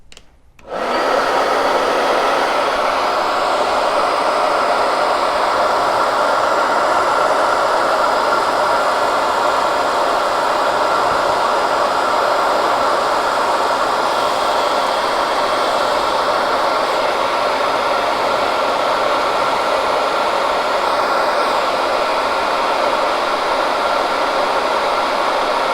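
A hair dryer switches on with a click and blows loudly and steadily, a constant rushing roar that continues unbroken to the end.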